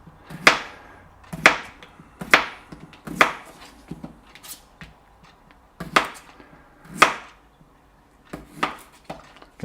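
A knife cuts vegetables into thin slices for briam, each stroke landing as a crisp knock on the board, about a dozen cuts at an irregular, unhurried pace with short pauses between them.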